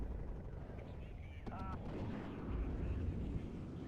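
Mortar and artillery fire in WARNO rumble as dull, distant booms under a low battlefield din, with a voice talking over them.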